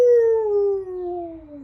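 A human voice imitates a wolf howling at the midnight sun, one long sustained, slowly falling wail, clear and close with no other sound.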